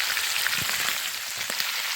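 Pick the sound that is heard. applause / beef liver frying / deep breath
beef liver frying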